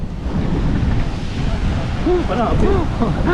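Wind roars steadily into the microphone on the coast at Tanauan, Leyte, a constant loud rush with surf-like wash; a voice speaks faintly under it near the end.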